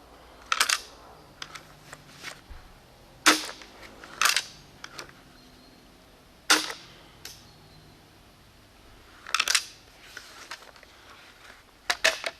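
A modded crossbow shooting balls fed from a mounted magazine, producing several short sharp snapping shots with quieter mechanical clicks between them, spaced irregularly and heard up close.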